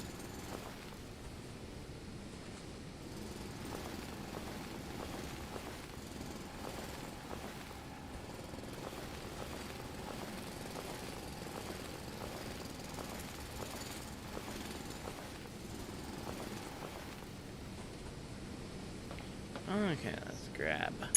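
A mining drill runs in the factory-building video game Foundry, giving off a steady, dense mechanical rumble and rattle that continues for the whole stretch without letup. A slight extra burst of noise comes near the end.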